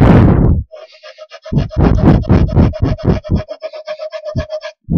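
A fine file or sandpaper scrapes across a wooden toy car, close and loud, in a burst of rapid strokes after a brief opening rasp, the rubbing repeating steadily with short pauses.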